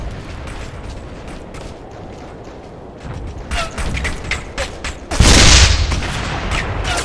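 Heavy gunfire in Operation Flashpoint: Red River, with scattered rifle shots and rattling bursts under a rumbling backdrop, swelling into a loud close blast and dense volley near the end, no speech.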